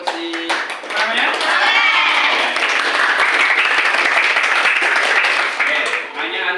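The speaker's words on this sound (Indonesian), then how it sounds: "Kita kasih tepuk tangan" A classroom full of students breaks into loud, sustained applause for a classmate, a dense clatter of clapping hands lasting several seconds before fading out.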